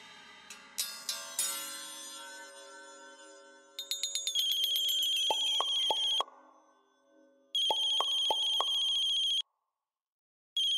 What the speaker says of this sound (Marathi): राणा भाऊजींचा फोन आहे, उचल आणि नीट बोल